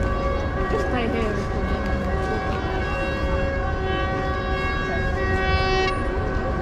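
A fire engine siren wails steadily through loud London street traffic during a Westminster tractor rally, its tones sustained and close with a dense rumble of engines beneath.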